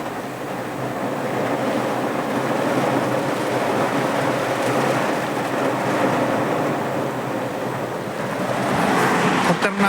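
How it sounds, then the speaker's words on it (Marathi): Heavy Mumbai downpour drums on a taxi parked near Juhu, heard from inside the cabin as a dense, steady roar that swells slightly toward the end. "तर खूप जोराचा पाऊस आलेला आहे,"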